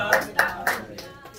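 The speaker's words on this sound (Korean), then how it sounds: "박수 한번 해주세요" A few separate hand claps from an audience at a scholarship award ceremony, four sharp bursts at an even pace, moderately loud with no talk over them.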